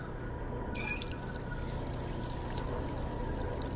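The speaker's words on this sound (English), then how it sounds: "they all start with putting some water in the pot" Water pours into a pot in the video game Job Simulator, a continuous liquid splash with dripping that starts abruptly a moment in and carries on steadily to the end.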